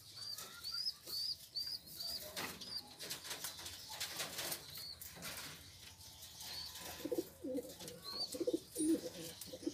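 Pigeons in a backyard flock coo softly, with repeated low calls mixed with sharp chirps, scattered wing flaps and shuffling nearby, and faint background noise throughout.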